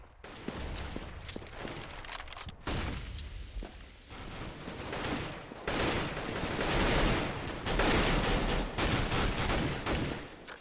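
Rapid gunfire sprays in a Counter-Strike match at a Copenhagen Games 2014 esports event, dense bursts of shots rattling almost continuously and loudly for the whole stretch.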